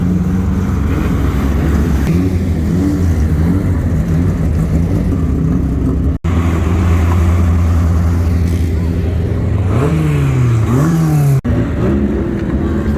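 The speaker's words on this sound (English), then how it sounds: "It's 2 litre saloon stock cars going out for there." Two-litre saloon stock cars heading out onto Crimond Raceway, engines droning and revving steadily with rising pitch sweeps, loud and fairly close, with crowd chatter mixed in.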